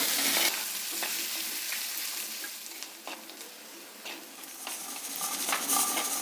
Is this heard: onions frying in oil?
yes